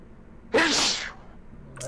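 A single sharp sneeze from a person at a tabletop dice game, a short loud burst followed by quiet, with a faint brief sound near the end.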